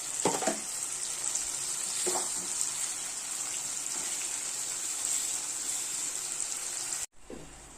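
Spice paste fries in hot oil for a Bengali fish curry, a loud, steady sizzle with occasional stirring scrapes, close up, cutting off abruptly near the end.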